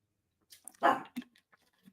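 A small 10-pound Yorkie and Maltese mix dog lets out one loud bark, followed by a few softer yips and small sounds against an otherwise quiet background.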